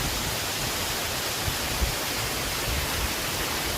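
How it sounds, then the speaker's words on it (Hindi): Ulu Petanu waterfall in Ubud, Bali, gives a steady, dense roar of falling water that stays loud and even throughout, with no voices. "तो कुछ समय ये वाटर का आवाज़ सुनिए और शांति के पल बिताइए।"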